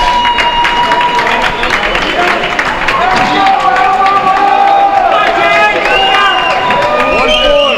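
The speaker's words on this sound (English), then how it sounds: "crowd's getting into it now." Spectators at a pro-am racquetball singles semifinal cheer and clap, a loud, continuous wall of crowd noise under close, excited commentary.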